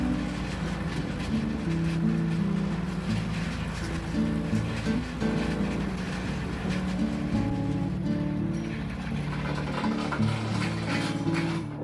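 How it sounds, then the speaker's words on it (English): Heavy steel-wheeled cultipacker rolling over a baseball field's dirt, a steady, loud low rumble and grinding drone with continuous rattling, holding even throughout. "I'm now running a cultipacker over the field"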